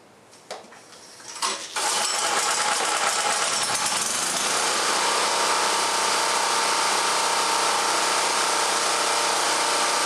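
Champion 46514 portable generator, 3500/4000-watt, pulled to start with a few short rattling cranks before catching and settling into a loud, steady, close engine roar that holds to the end.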